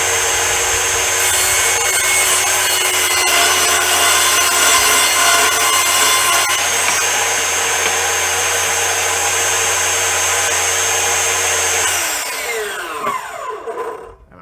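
A Bosch GTS18V-08N cordless table saw rips through an OSB board in one long, loud, steady cut with a low motor hum beneath, then spins down and falls quiet near the end.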